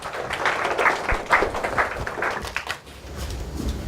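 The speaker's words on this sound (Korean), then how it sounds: "자, 박수 한번 쳐주세요." An audience in a lecture hall gives a short round of applause, uneven clapping at moderate volume that fades slightly after a few seconds.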